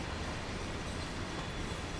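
An American freight train rolls through snow in the Train Sim World game, a dense, continuous rumble of wheels and cars at steady loudness with no voices.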